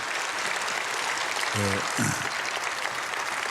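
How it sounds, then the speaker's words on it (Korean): Church congregation applauding at an early-morning prayer service, a dense wash of clapping that holds steady throughout while someone speaks briefly over it. "박수하겠습니다."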